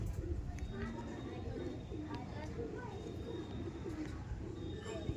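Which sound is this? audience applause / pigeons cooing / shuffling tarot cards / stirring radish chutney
pigeons cooing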